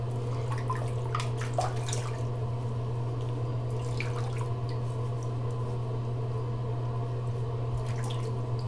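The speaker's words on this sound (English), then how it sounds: "let's rinse off and see how we did" Running water splashes as someone rinses off after a shave, a steady faucet flow with irregular drips and splatters over a constant low hum, close and moderately loud.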